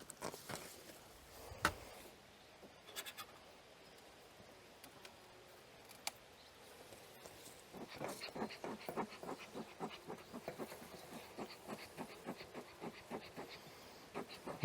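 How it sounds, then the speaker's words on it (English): Honeybees from an aggressive colony buzz around outdoors, a faint hum with individual bees passing near, mixed with ticking and light rustling or footsteps. "Okay, so we got a lot of bees out here."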